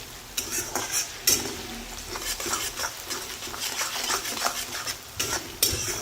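Onion frying in a masala mixture, browned toward dark brown, with steady sizzling and repeated scraping and stirring clinks of a utensil against the pan throughout.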